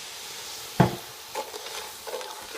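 Butter, cardamom, sugar and water cook in a pan, a soft sizzle with a few close stirring scrapes and clinks over a few seconds, no talking.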